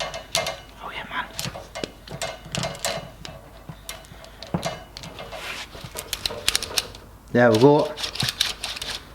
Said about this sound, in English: we're going to get this tool back out and run it along the brake line and get it nice and straight